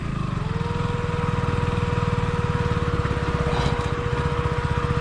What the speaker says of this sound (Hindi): बार बार बाइक बंद हो जा रही है।